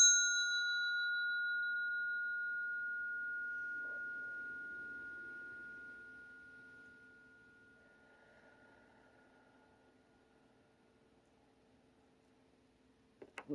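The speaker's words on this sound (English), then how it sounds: "we'll do a little bell for energy clearing" Single bell struck once for energy clearing, a clear ringing tone with bright overtones that decays slowly over many seconds in a quiet room, ending with a few faint handling clicks.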